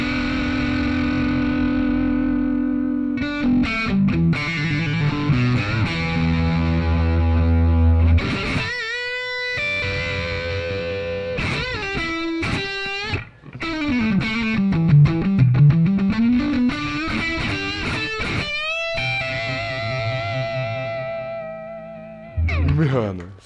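Electric guitar driven through a Jackman 2 valve overdrive pedal with gain and tone set midway, sustained distorted chords and riffs ringing loud and continuous with brief pauses, no talking over the playing.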